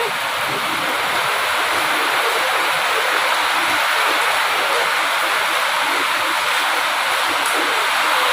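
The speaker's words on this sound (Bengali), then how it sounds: "দেখো বৃষ্টির আওয়াজ শুনতে পাচ্ছ" Heavy monsoon rain pours steadily outside, a dense, unbroken hiss of water that stays loud and even throughout with no voices over it.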